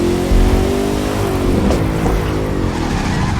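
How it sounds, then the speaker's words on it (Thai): A Koenigsegg Jesko supercar engine in the video game The Crew 2 revs hard and then lets off. Sharp popping crackles from the exhaust follow, with a whoosh of speed underneath. "โอ้เวลาผ่อนเนี่ยท่อยิงเสียงไพเราะมากเลย"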